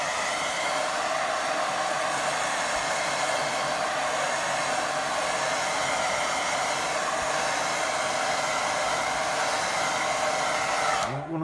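A hair dryer blows on a watercolour painting of a big lake, a loud, steady whirring roar held close and unbroken for several seconds before it cuts off at the end.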